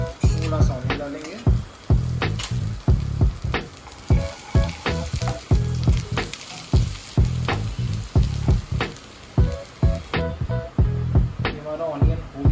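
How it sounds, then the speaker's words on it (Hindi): Garlic and then onion frying in a hot pan give a steady crackling sizzle, with repeated stirring scrapes and a person talking over it throughout. "जब ये लहसुन हो जाएगा ऐसे हल्का सा, तब हम इसमें ऑनियन मिला देंगे, थोड़ा सा ऑनियन डालेंगे।"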